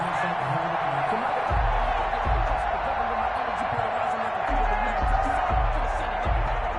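A stadium crowd in a PS4 football video game cheers and roars in a steady, moderately loud wash, with a game commentator talking over it and occasional low thumps.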